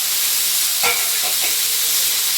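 Chopped carrots and vegetables sautéing in a pan, a steady broadband sizzle filling the clip with a couple of faint scraping stirs, close and continuous with no talking.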